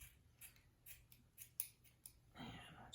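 Several quick snips of paper scissors cut through rubber bands, spaced irregularly, close and fairly quiet, followed by a soft rustle.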